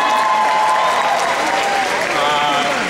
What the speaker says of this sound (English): You guys down here should just applaud the people that are up on the roof.